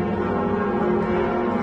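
Church bells ring in the wooden belfry of Notre-Dame's bell tower in Paris, a sustained, dense metallic drone of overlapping tones that stays steady and loud across the short moment.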